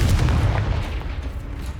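Confringo blast spell exploding in the video game Hogwarts Legacy: a loud, deep booming rumble that holds steady for about two seconds with no voices.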